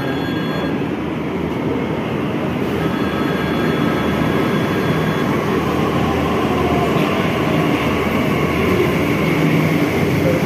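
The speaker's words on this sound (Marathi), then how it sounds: "ट्रेन आपली आलेली आहे." A loud, steady rumble of a Pink Line metro train rolling into the station, with a continuous roar and faint metallic hum filling the space throughout.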